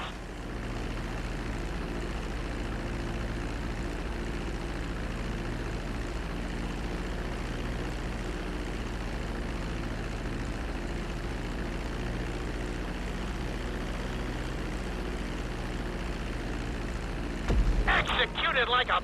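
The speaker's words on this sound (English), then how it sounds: "Start to decelerate while you're still in the air, but be careful not to stall the engines." Steady, loud drone of airplane engines on a landing approach in GTA V, a continuous propeller-like roar that holds evenly throughout, with a brief sharper burst of noise near the end.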